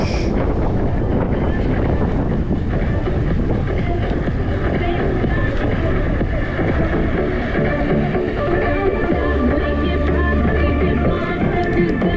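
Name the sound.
wind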